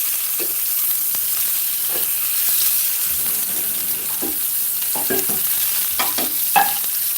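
Chipolata sausages and cherry tomatoes sizzle in a frying pan for a breakfast fry-up. A steady close hiss runs throughout, with scattered pops and the scrape of stirring. No one speaks.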